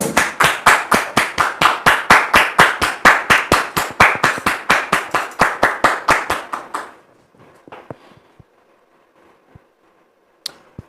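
Rhythmic, unison clapping from a studio audience welcoming a guest onto a French television talk show: about thirty sharp, evenly spaced claps, loud and close, then a few scattered stray claps in near-quiet.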